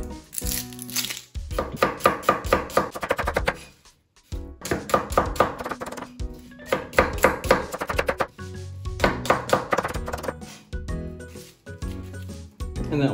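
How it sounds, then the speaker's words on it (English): A knife chops vegetables into small strips on a cutting board in a Japanese home kitchen, rapid close crisp taps in bursts with short pauses between runs. "I'll prepare all the vegetables. And for all the vegetables, I'm just gonna make small strips."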